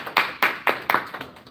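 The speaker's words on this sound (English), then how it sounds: "So you just get a round of applause for people that are being here." An audience at a men's health and wellness event gives a short round of applause: about five or six distinct clap bursts in a loose rhythm, close and fairly crisp, fading toward the end.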